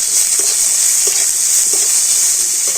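Finely chopped onions frying in hot oil with ginger and garlic, a steady close sizzle with a few soft stirring scrapes and no talking.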